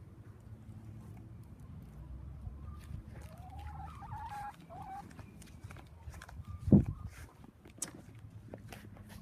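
A fluffy-headed chicken waddling around a yard makes soft, low clucks and murmurs, then one sharper, louder squawk near the end over faint outdoor background.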